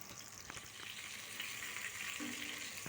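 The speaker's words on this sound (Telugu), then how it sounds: "కలుపుకుంటూ ఫ్రై అవ్వనివ్వాలి." Fish fries in a pan with a steady, moderate hiss of hot oil, broken by a few soft scrapes as the pieces are gently stirred.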